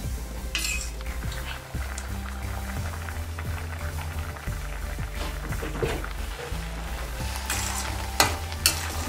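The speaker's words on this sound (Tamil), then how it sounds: "இப்படி கலரிக்கிட்டே இருங்க." Carrot halwa being stirred in a pan: continuous scraping of a spoon against metal with soft sizzling and occasional clinks, steady and close under background music.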